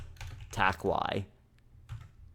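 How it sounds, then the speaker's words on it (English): Commands typed on a computer keyboard while installing software on a CentOS server, a quick run of close key clicks mixed with someone talking over them. "So to do that, we're going to type in the following."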